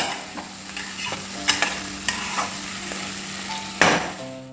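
Tomatoes sizzle and fry in a pan for brinjal masala rice while a spoon scrapes and clanks against the metal in a run of close, irregular stirring strokes over the steady crackle of oil.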